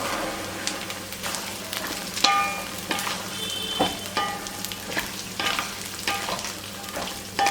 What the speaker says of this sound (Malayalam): വെളുത്തുള്ളി ഈ എണ്ണയിൽ കിടന്നിട്ട് വാടി വരണം